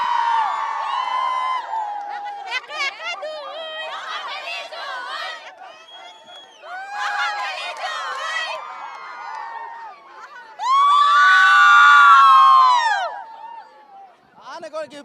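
Students at Assam Valley Academy in Nalbari cheer and shout together in celebration. Loud bursts of whoops and excited voices rise and fall, with the longest, loudest outburst near the end.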